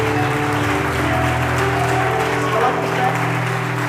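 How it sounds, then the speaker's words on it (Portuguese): A church congregation claps together during an evangelical service, a continuous, fairly loud wash of applause blended with music and a voice in the hall. "Aplauda Jesus, aplauda Jesus."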